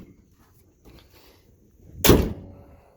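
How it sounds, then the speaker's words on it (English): The fiberglass hood of a 1979 Chevrolet is lowered and shut, with a brief shuffle of handling and then a single dull, heavy slam near the mic before things go quiet. "I'm gonna shut the hood back on this thing."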